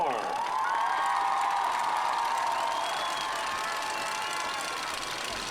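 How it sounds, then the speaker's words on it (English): A stadium crowd at a high school football halftime show, Weslaco Panthers versus Weslaco East Wildcats, gives a sustained roar of cheering and applause, with shrill whistle-like cries riding over the steady wash of noise. "how about one more round of applause for the future and present Panther Corps?"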